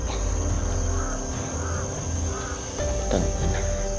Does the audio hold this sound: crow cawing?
yes